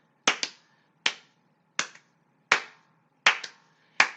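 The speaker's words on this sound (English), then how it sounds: "We're going to keep going to double claps." Sharp, close hand claps ring out alone in a quiet room, six strikes at a steady pace, some of them doubled into quick pairs.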